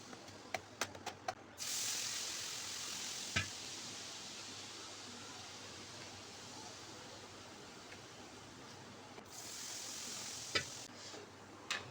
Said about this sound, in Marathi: गरम तेल घातल्यामुळे आपला मसाला छान भाजला जातो